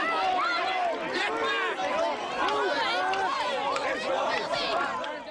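A surging crowd of protesters in a riot, with dense overlapping shouting and yelling voices and a constant roar of babble from many people close by.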